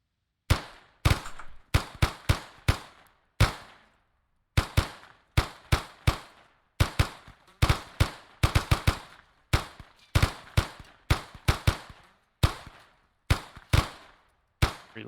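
Rapid, sharp sniper rifle shots crack out nearly nonstop over fifteen seconds during a video game training session, loud and close with short gaps between irregular bursts, with no talking.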